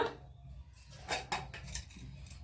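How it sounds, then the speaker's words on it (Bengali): Metal pressure cooker set down on a gas stove in a village kitchen, giving a few faint clanks and scrapes of cookware against a quiet room background, with no talking. "দেখুন গ্যাসটাকে ধরিয়ে এবার প্রেসার কুকারটাকে বসিয়ে দেবো।"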